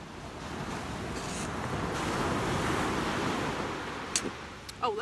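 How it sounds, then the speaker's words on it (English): Ocean surf washes steadily onto South Beach on a chilly morning at sunrise, a broad continuous roar swelling and easing with gusts of wind buffeting the microphone and a few sharp knocks near the end. "Oh, let's look at the beach too."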